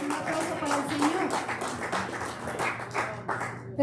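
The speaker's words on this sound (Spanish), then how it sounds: "Un aplauso para el Señor." Congregation applauding for the Lord during a Spanish-language church sermon, a steady burst of clapping from many hands filling the room for several seconds before tailing off.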